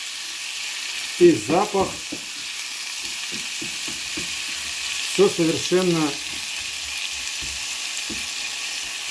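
Tomatoes sizzle and fry in a pan with a steady, close hiss running throughout, while someone speaks in two short bursts over the top.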